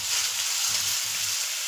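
Crumbled laddu tossed into hot melted ghee in a pan gives a steady, close hiss of frying that runs unbroken for the whole moment, with faint low stirring knocks underneath.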